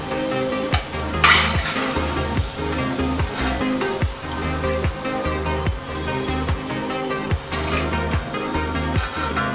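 Cutlets made from leftover puffed rice (kheel) frying in hot oil, a continuous sizzle broken by repeated stirring and scraping knocks of a utensil against the pan, close and steady.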